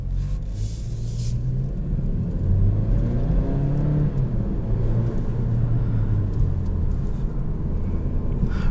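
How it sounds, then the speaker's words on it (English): Interior drive in a 2020 Kia Stinger GT-Line with the 4-cylinder engine, a steady low droning engine note and road rumble under way, swelling slightly as it pulls along, no talk. "Right off the bat, you are going to notice that 4-cylinder sound."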